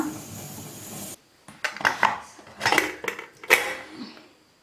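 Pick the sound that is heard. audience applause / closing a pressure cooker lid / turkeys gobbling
closing a pressure cooker lid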